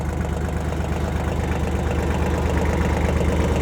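A Kioti LB1914 compact tractor with a leak rumbles along at low throttle while moving, a steady close diesel chug with a knocking, vibrating low-pitched rhythm and no talk.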